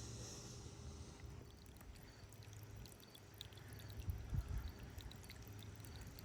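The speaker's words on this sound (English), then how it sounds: "I got the hose running through there" A garden hose running water through a corrugated drain pipe gives a steady, close gushing and trickling flow with faint drips and a brief louder surge.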